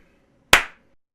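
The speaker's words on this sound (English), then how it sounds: "Sync clap." One sharp, loud hand clap with a short decaying ring, otherwise near silence.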